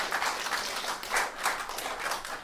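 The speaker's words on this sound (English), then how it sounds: "You clap" An audience applauds, a steady wash of many hands clapping together that rises and falls in loose pulses over a couple of seconds, with no voices over it.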